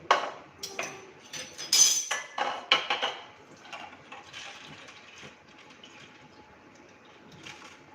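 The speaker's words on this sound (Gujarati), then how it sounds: "હવે આપણે એમાંથી પાણી હટાવી લેશું." Water being drained off washed moong dal, with a cluster of close metallic clinks and splashes from a steel pot early on, then softer trickling and faint handling.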